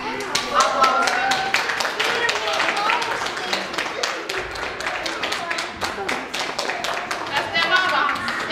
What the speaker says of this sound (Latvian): Aplausiem.